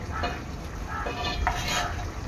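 Fried eggs dropped into a bubbling, sizzling Hyderabadi egg curry with faint stirring scrapes, steady and close, no voices.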